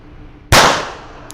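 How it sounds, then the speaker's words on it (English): A single sharp report from a North American Arms .22 mini revolver, loud and close, with a quick decaying ring and a faint metallic tick shortly after. "let me get it loaded up again, and we'll shoot it some more."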